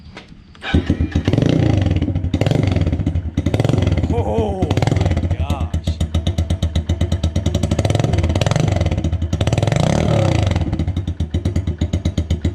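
A pit bike engine with its spark arrestor removed revs loudly and raggedly up close, its rapid popping exhaust rising and falling, with a brief exclamation over it.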